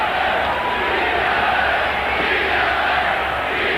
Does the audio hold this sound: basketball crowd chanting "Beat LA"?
yes